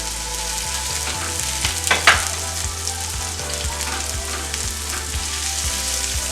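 Garlic, onion and scallion sizzle and fry in a pan, a dense steady crackle close up with a regular ticking stir and no voices.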